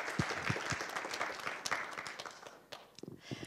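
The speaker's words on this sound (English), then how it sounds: "Let's clap for her." Congregation applause at a church testimony service, a broad wash of clapping that starts full and thins out toward the end, with a few louder individual claps standing out.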